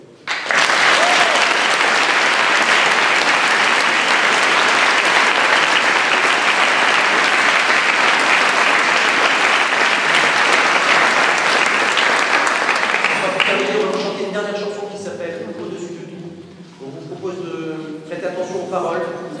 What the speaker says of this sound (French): merci beaucoup de vos applaudissements